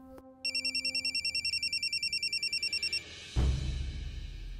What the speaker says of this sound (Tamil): சஞ்சய் தான் ஃபோன் பண்றான்.